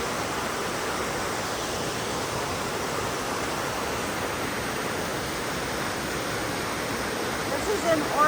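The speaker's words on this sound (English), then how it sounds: "This is Trillium Waterfall." Steady, dense rushing of Trillium Falls in Humboldt County, California, a constant broadband roar with no pauses, heard fairly close and unchanging throughout.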